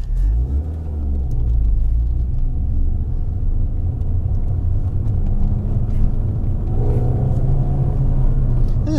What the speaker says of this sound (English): This is just whipping your head back music as it launches down the road and then pops and crackles like crazy out the back.